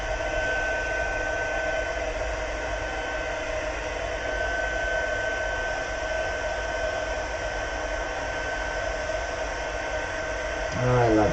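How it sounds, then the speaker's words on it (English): Heat embossing gun blowing hot air over double-sided vellum, a steady close whooshing hum that holds evenly throughout without a break. "it changes pretty quick when you heat up your gun"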